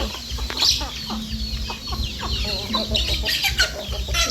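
Chickens cluck repeatedly nearby, several birds overlapping in busy, irregular bursts over a steady outdoor background in the rain.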